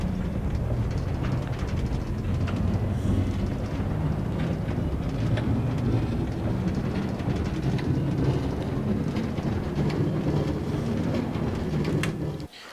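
Minecart rolling along a rail track in Minecraft, a continuous low rumbling clatter held at steady loudness for the whole ride before cutting off abruptly at the end.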